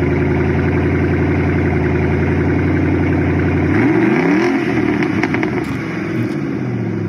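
Three-valve car engine running on a cold start, a loud close steady drone that shifts pitch partway through as the revs change.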